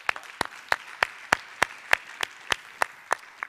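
At a startup pitch event, an audience applauds with distinct, evenly spaced claps that land about three times a second, steady and moderately loud in a quiet room.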